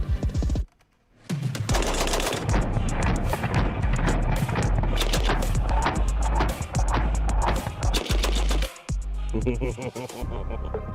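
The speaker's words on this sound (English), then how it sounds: "Finally getting to shoot an AA-12." An AA-12 automatic shotgun fires long, loud, booming bursts of rapid shots with brief pauses between strings, up close and dominating the scene.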